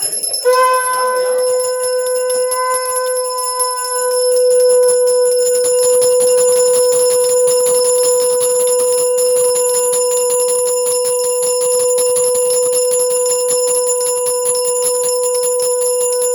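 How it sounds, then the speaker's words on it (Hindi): A hand bell rings during a Hindu Satyanarayan Katha prayer at home, continuous with a bright, sustained metallic tone and rapid clapper strikes, loud and close, with no talking. "अरे हम घंटी बजा"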